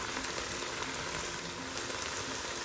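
Onions and garlic frying in a pot of a Ninja Foodi or Instant Pot, giving a dense, even, close sizzle with no pauses.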